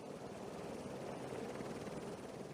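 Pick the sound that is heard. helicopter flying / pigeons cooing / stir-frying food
helicopter flying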